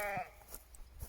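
A single sheep bleats nearby, a short wavering cry, followed by quiet outdoor background.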